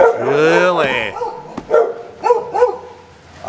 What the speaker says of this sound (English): it's freaking dogs barking when you're trying to film